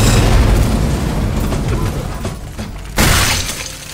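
Loud explosion in the video game Resident Evil 2: a heavy, crackling blast that slowly fades, followed by a second sharp burst near the end.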